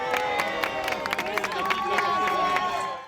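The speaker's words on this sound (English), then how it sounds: "the quiet streets erupted with joy. Cheers, applause, children calling out," A crowd cheering and clapping in the streets of eastern Rome during a papal parish visit, with voices calling out over scattered claps at a middle distance.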